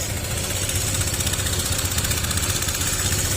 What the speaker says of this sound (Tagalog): Ito na lang talaga yung umaandar, yung makina. Ganoon pa rin yung ingay niya